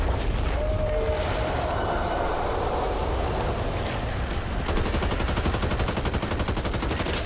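Rapid, sustained gunfire in Back 4 Blood, loud dense bursts rattling continuously over a rumbling background, the firing growing more rhythmic toward the end.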